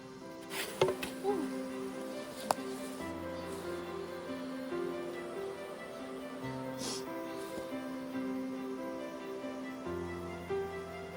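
Korean native honeybees hum at their hive, a faint steady drone with occasional louder passes of individual bees close by, sharp brief ticks early on and tonal background hum.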